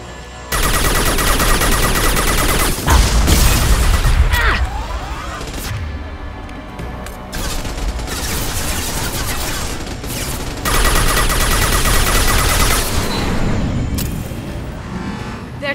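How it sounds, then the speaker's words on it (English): Rapid, steady automatic gunfire from a weapon in Mass Effect Legendary Edition, loud and sustained in dense bursts across the whole stretch, mixed with crashes and battle noise. "You see how fast and stable this gun fires?"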